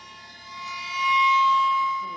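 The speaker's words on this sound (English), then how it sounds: "And also gong." A single struck gong tone rings out with a long, shimmering sustain, swelling slightly before slowly fading.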